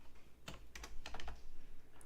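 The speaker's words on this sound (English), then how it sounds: "I'm also wearing a plaster on my hand, so typing is a bit awkward right now." Typing on a computer keyboard by someone with a plaster on one hand: a fairly quiet, irregular patter of close key clicks, some in small bursts, over a low steady background hum.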